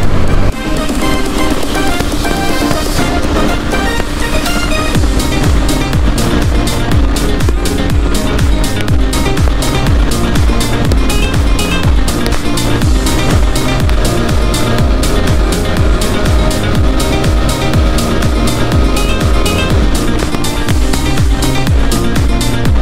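A 125cc motorcycle at high speed near 113 on a ride to Belpahari, the engine note steady and loud throughout, mixed with heavy wind rush and road roar, no talking.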